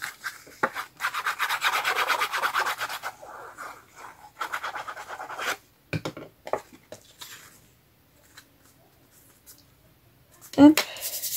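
Paper being glued down for a simple handmade card, with soft close rubbing and pressing strokes in bursts, then scattered light taps and one louder bump near the end.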